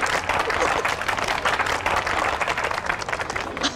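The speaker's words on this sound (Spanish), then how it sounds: "Señores, un aplauso por favor a nuestro nuevo equipo de seguridad." A room of people claps in dense, steady applause for a new security team, a close and continuous patter with no voices standing out.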